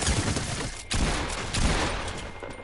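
Repeated cannon blasts in an online video game, a dense run of heavy booming shots with two louder thumps, close and loud, no talking.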